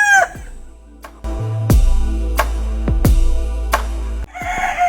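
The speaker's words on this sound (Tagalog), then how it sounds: "Itong manok to ay isang Rhode Island Red." A Rhode Island Red rooster crows loudly and close by, with hen clucks and other fowl calls around it and a low steady hum underneath.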